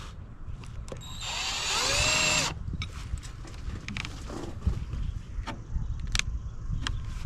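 A power drill whirs in a short, steady burst of about a second and a half, driving a screw into old holes on a fence gate hinge, close up, followed by light handling clatter.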